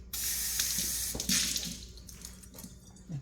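A kitchen tap runs water over food being rinsed, a steady close splashing stream that shifts and spatters as the food moves under it, then tapers off.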